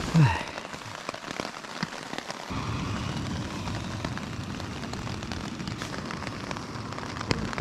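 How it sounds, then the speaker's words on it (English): Heavy, lashing rain pours down steadily in the Irish countryside of County Clare, a dense, continuous hiss that swells after a brief quieter moment and then holds loud and even. "Lashing rain out for the last few hours."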